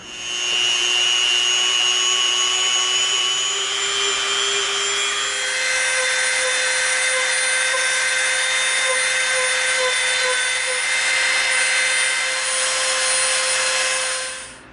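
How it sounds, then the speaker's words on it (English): A Dremel rotary tool fitted with a bullet tip shapes and rounds off EVA foam edges on a scorpion mask, making a continuous high whine whose pitch shifts midway, loud and alone. "now we've got our bullet tip on for our Dremel because we're going to need to hit a corner."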